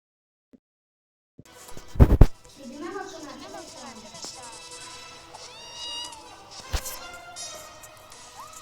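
A pet cat meows a few times indoors, short rising and falling cries mixed with sharp thumps and a person's voice.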